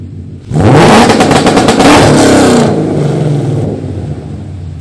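A Ford Mustang S550 fitted with a WOTBOX revs loudly up to about 3,600 RPM and holds there, close by, then eases off into a lower, steady idle with no one speaking.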